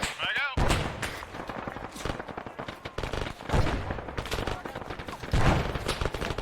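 A grenade blast amid gunfire in the military shooter ARMA 3 during squad training, with sharp explosive bangs and scattered shots over a few seconds, a voice calling out briefly.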